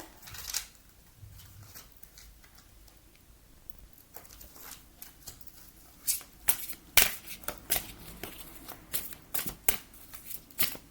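Tarot-style cards are shuffled during a card reading: a quiet stretch gives way to a run of crisp riffling snaps and slaps, close by, with no talk.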